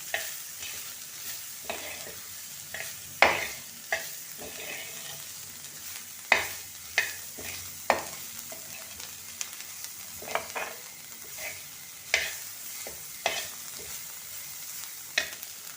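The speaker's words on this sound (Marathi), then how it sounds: "थोडी साखर टाकायची आणि व्यवस्थित परतून घ्यायचं" Kudyachya sheng bean pods sauté with a little sugar and spice in a quiet pan, a low sizzle punctuated by sharp spatula scrapes and taps every second or two.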